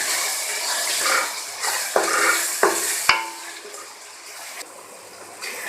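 Masala spices cook in a pan, a constant close sizzle and crackle broken by several scraping stirs and a few sharp knocks of the utensil.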